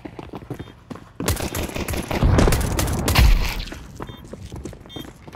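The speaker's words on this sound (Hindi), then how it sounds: "शॉट आ रहे" Bursts of rapid gunfire from Counter-Strike 2 on the Mirage map, a loud sustained fusillade of overlapping shots in the middle with quieter single shots and footstep-like clatter before and after.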